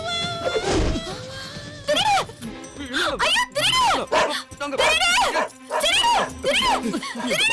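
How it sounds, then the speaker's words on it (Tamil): A dog yelps and whines in short, rising cries, close and loud, mixed with people speaking. "நாய் குறைக்கிற சத்தம் கேக்குதுடா"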